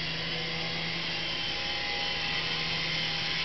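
Small Syma S109 Apache RC toy helicopter flying indoors, its steady high-pitched motor whine and rotor hum constant and close throughout with no talking.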